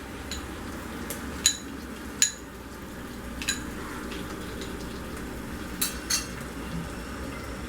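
Masala thinned with a little water is stirred in a pan, a quiet wet scraping with several sharp spoon clinks against metal, near and unhurried, no voices.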